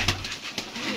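Pigeons in a rooftop loft, a soft cooing murmur with a couple of brief flutters, heard alone at moderate distance.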